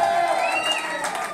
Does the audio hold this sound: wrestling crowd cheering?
yes